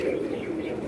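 Steady low cooing from pigeons, a continuous throaty murmur close by with no pauses, from a flock of banded high-flying fancy pigeons kept by a hobbyist.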